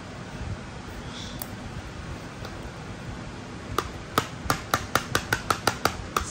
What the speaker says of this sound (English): So, I'll do a scratch test.